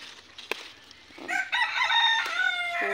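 A rooster crows loudly in one long, rising and falling call in the countryside of the Philippines, preceded by a few faint clicks and rustles.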